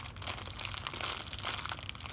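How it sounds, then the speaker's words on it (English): Sour Patch Kids candy being pulled from a small plastic bag, a steady close crinkling and rustling of plastic packaging throughout, with no talking. "we'll just take them out of the packaging. Here they are in a little plastic bag."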